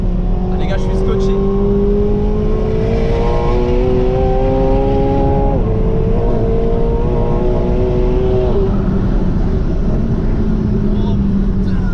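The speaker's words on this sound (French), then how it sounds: "Et une Dallara sur le circuit, c'est beaucoup plus rapide." A Dallara race car accelerates on a circuit, its engine note climbing steadily through rising harmonics, shifting once midway and continuing to build, loud and close against a constant background roar.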